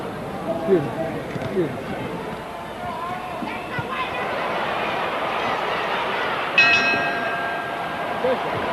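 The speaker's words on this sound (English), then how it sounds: "And the bell sounds, ending round 11" A boxing ring bell clangs to end round 11 of the 1971 Muhammad Ali vs. Jimmy Ellis fight, a short bright ring heard over a roaring arena crowd while commentators talk.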